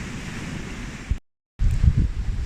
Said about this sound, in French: d'être au bord de la mer, d'être bercé par le son des vagues